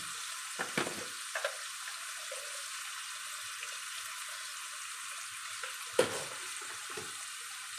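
Spice masala sautéing in a pan gives a faint, steady fry hiss, with a few soft knocks and one sharper clank of utensil against pan, close and quiet.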